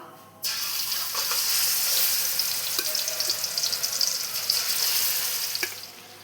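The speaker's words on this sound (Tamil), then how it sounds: "இப்போ இந்த வானலில் எண்ணெய் ஊற்றி இந்த சிக்கன்லாம் போட்டு பொரித்து எடுத்துக்கலாம்" Marinated chicken dropped into hot oil in a pan sets off a sudden loud, dense sizzle that carries on evenly with crackling pops and then eases slightly at the end, with no voices.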